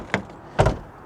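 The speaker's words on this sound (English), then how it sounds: "Oh, this door doesn't close." Two dull thunks from a 2015 Ford Mustang EcoBoost door that fails to latch, with door seals missing: a light knock, then a heavier double bump a half second later, close by.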